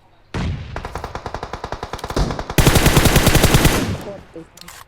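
Rapid bursts of automatic gunfire in the mobile shooter game PUBG Mobile, close and loud, rattling in a steady rhythm before swelling into a denser, heavier barrage that fades out near the end.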